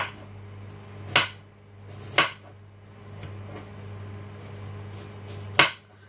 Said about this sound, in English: I'm literally cutting this onion right now